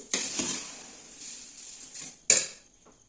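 Puffed rice is turned over a slow flame in a hot iron pan, giving a dry rustling scrape with a few sharp metallic knocks of the spoon against the pan.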